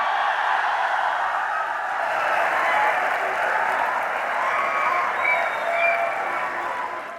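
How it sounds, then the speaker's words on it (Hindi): Crowd applause welcoming a guest onto stage, a continuous roar of clapping from a large audience, even and sustained, with faint cheers mixed in. "तालियों की गड़गड़ाहट जाएगी तब वो पीछे से यहाँ आएंगे।"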